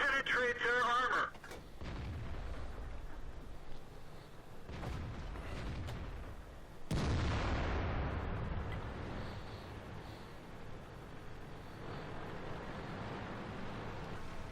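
Deep, heavy booms of tank cannon fire in the video game World of Tanks during a T69 light tank match, with a loud blast rolling into a long rumbling decay over engine noise, after a brief voice at the start.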